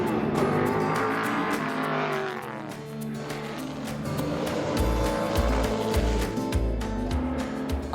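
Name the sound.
race cars slowing for a formation lap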